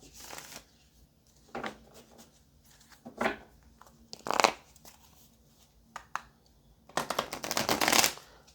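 A tarot deck is shuffled in several quick riffle bursts, crisp close papery flutters spaced by pauses, the last one longest and loudest.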